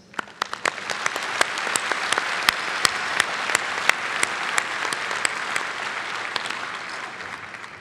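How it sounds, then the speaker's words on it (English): At a college commencement ceremony, the audience applauds the graduates. It begins as distinct individual claps, then swells into loud, dense, sustained applause that fades slightly toward the end. "Please join me now in a round of applause to congratulate the top graduates and all of our graduates from the summer and fall classes."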